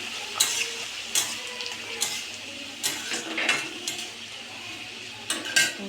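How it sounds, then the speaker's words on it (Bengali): Tomato goes into a frying pan for shahi paneer and is stirred, making a quiet sizzle broken by repeated sharp scrapes and clinks of a utensil against the pan, close up with no talk. "দিয়ে দিলাম টমেটো"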